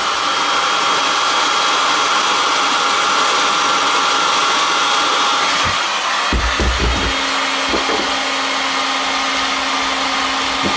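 A heat gun blows hot air onto a CPU to loosen its gold pins, giving a loud, steady whooshing roar throughout, with a few brief knocks and clicks near the middle.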